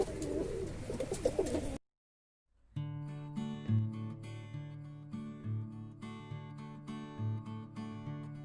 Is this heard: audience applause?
no